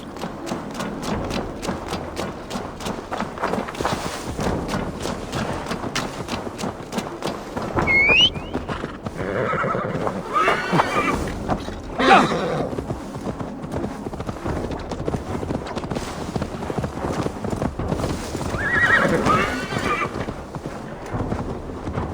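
Horse hooves clip-clop steadily through a game scene in Assassin's Creed Valhalla, with a brief neigh and a few thuds over a continuous background bed.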